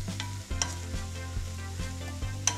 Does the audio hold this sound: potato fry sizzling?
yes